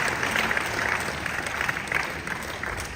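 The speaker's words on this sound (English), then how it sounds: "Please, a round of applause for him." Audience applause for a keynote speaker at a palace museum anniversary ceremony, dense, steady clapping that holds at an even level through the whole stretch with no voices above it.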